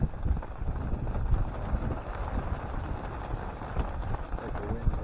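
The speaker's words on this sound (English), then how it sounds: "Like the wind hitting me from that side." Wind buffets a camper during late October rain, a constant rough gusting roar close to the microphone with no clear pauses.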